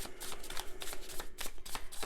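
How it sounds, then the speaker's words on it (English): A thin mini tarot deck is shuffled up close, producing rapid papery riffling and flicking bursts in quick succession, with no voices. "I might stick to overhand shuffling this deck."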